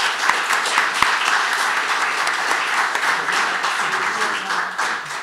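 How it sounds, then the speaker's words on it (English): Audience applause at a sea otter summit gathering in Bodega Bay, a dense, steady wash of many hands clapping close by for about five seconds, with a couple of sharp louder claps near the start. "join me in a round of applause for Chairman Franklin."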